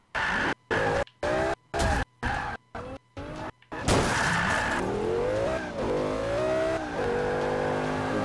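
A car in the Forza Motorsport 5 racing game skids and crashes: chopped engine bursts give way to a loud continuous roar with tire squeal, scraping and revving, close and loud.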